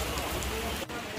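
Heavy rain pours down steadily, a dense, close hiss of drops drumming on a surface with no break.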